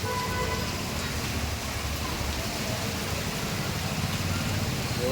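Steady, dense heavy rain in Surat, Gujarat, hissing continuously outside a shop, loud and unbroken, with a low rumbling wash underneath and no distinct voices.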